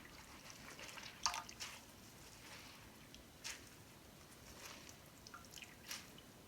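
Hands squeezing water out of mashed boiled potatoes for potato chapli kebabs, soft wet squishes and scattered drips close by over a quiet kitchen background.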